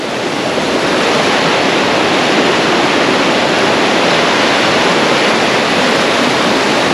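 Waterfall running high and murky after rain, a loud, steady broadband roar of rushing water that fills the whole stretch without a break.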